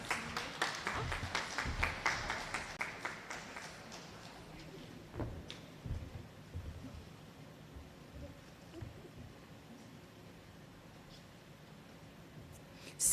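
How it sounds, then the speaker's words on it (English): Scattered audience clapping at a school entrepreneurship exposition honoring a staff member, fairly soft and rippling for about three seconds before thinning out into quiet room noise with a few stray knocks. "Please give Fawn a round of applause."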